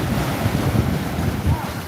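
Choppy lake waves and surf wash steadily during a powerboat race, buffeted by strong wind across the microphone, a continuous low rumbling roar with brief swells.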